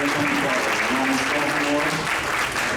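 An audience at an awards event claps loudly and continuously, a dense steady wash of applause lasting the whole stretch with murmuring voices faintly beneath.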